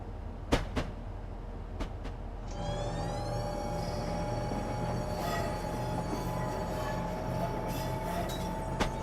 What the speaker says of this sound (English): This train is so much fun to drive.